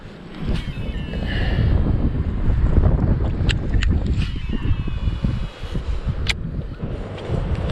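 Strong wind buffets the microphone continuously during late-winter bass fishing from a boat, a loud broadband rumble with gusty swells and a few sharp clicks, no talking.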